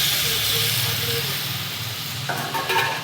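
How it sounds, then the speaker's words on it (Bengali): Banana flower, boiled potato and chickpeas sautéing with ginger, garlic and spices in a pan for a banana flower and egg curry: a steady close sizzle and hiss with stirring scrapes, growing louder toward the end. "মোচাটাকে ভালো করে কষাচ্ছি সব মশলাগুলোর সঙ্গে"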